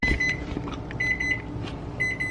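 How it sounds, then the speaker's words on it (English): A kitchen timer beeps in quick repeated bursts, three short runs of electronic tones close by, over faint background kitchen noise while home-canning pasta sauce. "Okay, so you can hear my timer just went off."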